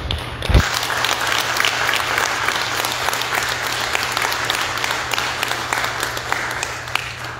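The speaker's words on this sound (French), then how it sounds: "Applaudissez." Church congregation applauding Our Lady of Mount Carmel during a Creole-language feast day Mass, sustained dense clapping filling the room after a brief thump, steady and loud over a low hum.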